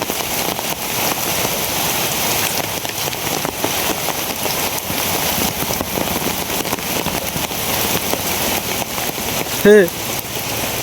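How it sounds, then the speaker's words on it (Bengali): Heavy rain falls outdoors at a fishing spot, a loud, steady wash of hiss from start to end, with a short voice near the end. "বৃষ্টি শুরু হয়ে গেছে"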